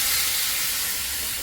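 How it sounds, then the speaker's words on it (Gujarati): Ginger-chili paste hits hot oil in a pan for a Gujarati dapka curry, giving a loud, steady hissing sizzle that fades slightly across a brief moment, with no talk. "તો હવે આપણે નાખી દઈએ આદુ મરચાંની પેસ્ટ"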